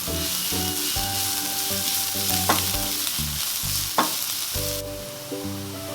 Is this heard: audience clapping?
no